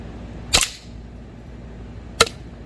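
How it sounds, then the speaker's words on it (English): A Taran Tactical Combat Master gas airsoft pistol fires two separate sharp pops about 1.7 seconds apart, each with a quick slide-cycling snap, close and loud in an otherwise quiet room. "we're gonna just do 1 or 2 pops just to show you the rate of fire, I guess, the cycle rate of the slide"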